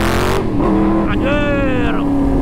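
A car engine revs hard in first gear, its pitch climbing and then easing off, loud and close, with excited voices talking over it.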